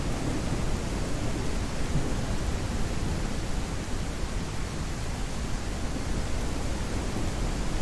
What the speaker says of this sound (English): It's thundering.